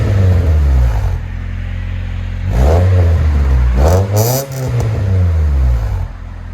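Loud 1997 Honda Accord with a modified exhaust revving close by: a rough idle, then two sharp revs that climb and fall back, with a raspy crackle at the top and a settle to idle.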